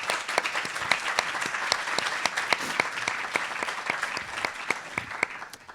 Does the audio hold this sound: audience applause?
yes